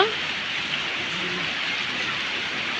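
A small waterfall after rain spills steadily down from above, a constant close rushing and splashing hiss with no pauses, near Cox's Bazar.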